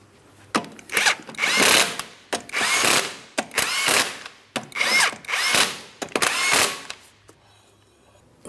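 An impact wrench runs on the 19mm lug nuts of a 2003-2007 Cadillac CTS front wheel, firing in five or six loud, close bursts of whirring and rattling with brief pauses between them.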